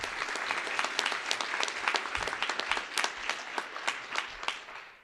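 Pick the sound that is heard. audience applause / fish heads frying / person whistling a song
audience applause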